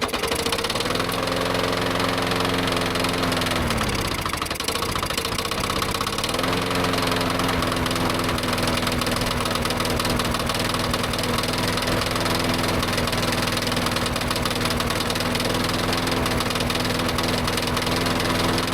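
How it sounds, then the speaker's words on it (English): A freshly rebuilt small engine, primed with a little fuel, cranks and fires, running loud and steady with a knocking, idling drone that briefly dips mid-way before picking back up, with no talking. "Threw a tickle of fuel at it. Let's see if it'll fire up."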